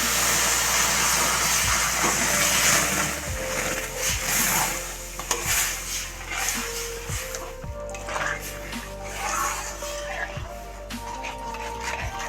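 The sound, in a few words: stirring semolina and coconut sweet in a pan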